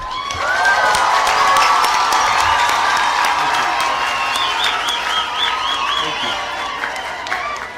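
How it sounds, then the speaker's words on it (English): Crowd at a Gretsa University graduation ceremony applauding loudly and continuously, with cheering and shouting mixed into the steady clapping throughout. "Let's give them another hand clap."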